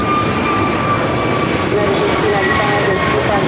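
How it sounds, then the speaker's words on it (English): An Air Tahiti Nui Boeing 787-9 Dreamliner arriving from Papeete at Los Angeles LAX, about to touch down: a steady, loud broadband jet roar with faint tonal whines, continuous and unbroken throughout. "Arriving was Air Tahiti Nui Flight 8, coming flight Papeete, 787-9 Dreamliner. Just about to touch down"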